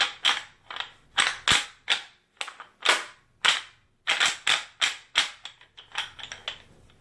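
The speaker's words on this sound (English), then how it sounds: "A little rattle bag." A deer hunting rattle bag shaken in quick bursts of sharp, clacking knocks, close and loud, grouped in irregular clusters with short gaps between them.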